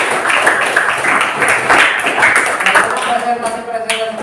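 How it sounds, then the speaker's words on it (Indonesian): Classroom audience claps for student presenters, a loose patter of hands under continuing talk before the clapping fades and a voice carries on. "tepuk tangan untuk kita semua."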